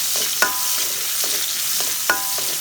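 Garlic dropped into hot oil already sizzling with lightly charred dried red chilies, a steady close frying hiss broken by a few sharp stirring clinks and spatters.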